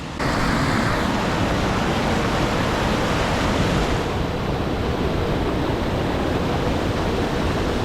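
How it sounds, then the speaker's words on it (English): Lynn Camp Falls roars as a steady, dense rush of falling water on a swollen river, loud and close, filling the whole stretch without pause or voices. "At this second set of log benches, this is what's known as Lynn Camp Falls."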